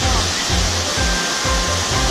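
Tara Falls in Bolinao roars as a loud, steady wall of rushing water, close and continuous, with no voices heard.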